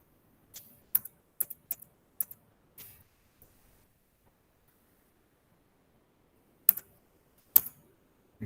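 Keys clacking on a computer keyboard as a Linux command is typed: a quick burst of close, crisp taps in the first three seconds, a pause, then two isolated keystrokes near the end.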